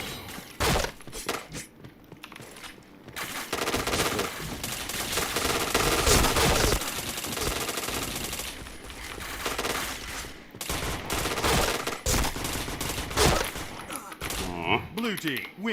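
Point Blank online shooter match: dense, rapid bursts of game gunfire with sharp cracks and glassy breaking, loud and continuous with brief pauses, over game music and effects.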